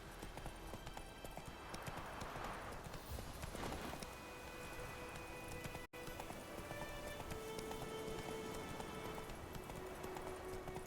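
Roach the horse galloping in The Witcher 3, a quiet, steady patter of hoofbeats with faint ambient game sound, brief neighing and a short dropout partway through.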